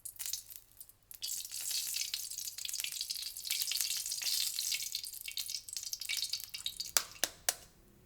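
Eggs frying in hot oil in a wok give off a steady, bright sizzle with crackling pops. It holds fairly even throughout, and a few sharp spatter cracks land near the end.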